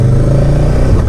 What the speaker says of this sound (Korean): 지금 나오는 이 배기음이 그 바이크의 배기음입니다.